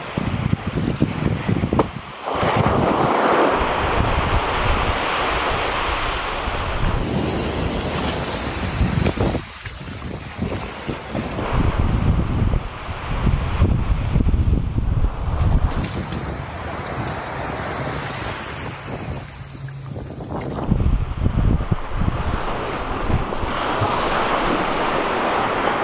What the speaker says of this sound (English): The ocean should make a decent bathtub substitute.